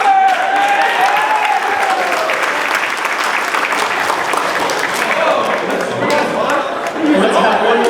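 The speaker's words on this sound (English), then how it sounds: "Let's have one more round of applause to all of our dancers in this first half" An audience at a campus dance competition claps steadily and loudly for the dancers, sustained applause with some crowd chatter and voices mixed in.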